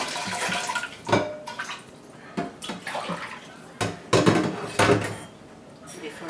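A sauce-covered dish scrubbed under a running kitchen tap, with splashing water and intermittent knocks and clatters of the dish close by, while a person talks.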